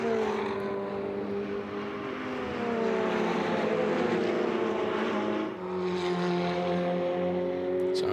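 Ferrari Challenge race cars at Road Atlanta drone past at a distance as their engine notes rise and fall in a steady, sustained roar with no voices.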